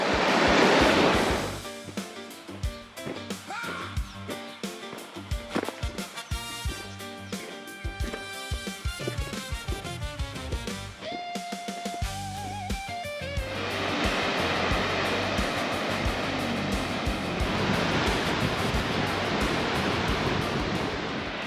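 Baker Creek Falls, a 140-metre waterfall in Oxley Wild River National Park, roars as a steady wash of falling water, loud near the start, with other sounds mixed in midway before the broad rush swells again.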